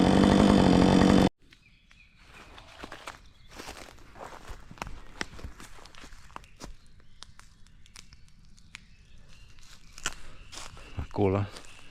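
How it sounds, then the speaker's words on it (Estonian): Chainsaw working through forest-dry timber outdoors, with a loud burst at the start, then intermittent cutting and crunching handling noises and footsteps, birdsong faintly in the background. "see puu on ju metsakuiv ja kuidas see nürib saagi"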